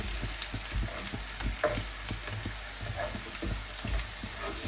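Fish pieces frying in hot oil give a continuous close crackle and sizzle, with soft irregular bumps from stirring or turning and no talk.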